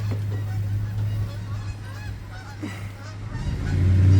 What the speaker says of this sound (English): There goes more geese.